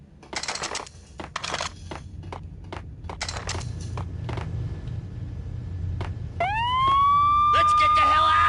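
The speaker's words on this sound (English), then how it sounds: "I'm allergic to sirens." A police siren wails up loudly and holds steady in the Max Payne video game, following a stretch of scattered footsteps and clicks, with a voice speaking in the background.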